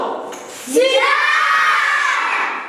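Schoolchildren in a classroom shout together in imitation of a jackal's howl, a loud rising group wail that swells and holds for a couple of seconds, close and alone.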